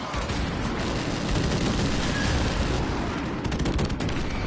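Dense, loud gunfire and booming airstrike explosions fill a Call of Duty Modern Warfare match, a continuous close barrage with no pauses.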